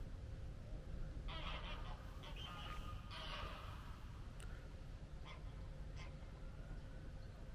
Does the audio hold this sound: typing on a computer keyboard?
no